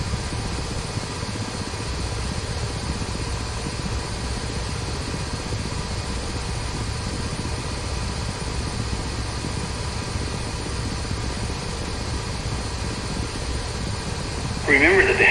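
Ka-50 Black Shark coaxial-rotor helicopter in the DCS flight simulator, a steady loud rotor and turbine drone holding continuously near hover, with a brief brighter burst at the very end.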